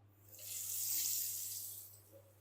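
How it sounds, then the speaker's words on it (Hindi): Besan-coated fish pieces drop into oil heated over a medium flame, raising a bright sizzling hiss that swells quickly, holds, then eases off, with no talking. "अब हम मीडियम फ्लेम पर ही फ़िश को फ्राई करेंगे।"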